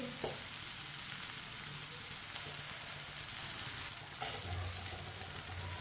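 Okra (bhindi) frying in a pan, a continuous dense close sizzle with soft stirring scrapes throughout, alone with no talk.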